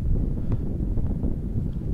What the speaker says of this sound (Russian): Опять ветер поднялся.